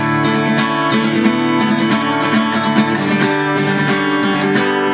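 Finger-picked acoustic guitar plays the intro of a song, steady plucked notes ringing clearly and close with a gentle pulse and no voices.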